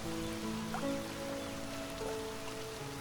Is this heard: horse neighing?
no